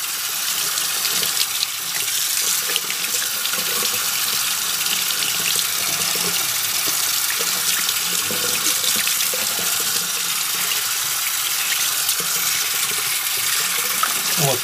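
Eyeglasses rinsed under running tap water, a steady loud hiss and splatter of the stream into a sink, continuous and unbroken with no voices.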